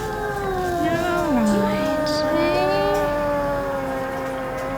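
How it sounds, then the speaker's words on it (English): A cat gives a drawn-out, wavering low growl that rises into a moaning yowl, close and tense, with faint background noise. "I can actually hear him growling"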